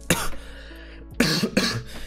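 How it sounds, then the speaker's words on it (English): Three sharp bursts of coughing from a single person, close to the microphone, with short pauses between them and no talking. "sorry for the coughing, guys."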